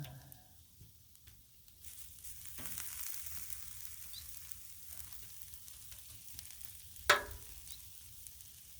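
Beef fried rice with steak and vegetables sizzles steadily on a Blackstone griddle, a close, continuous hiss with a sharp scrape or clank of a spatula partway through.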